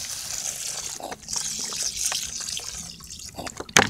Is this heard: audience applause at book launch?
no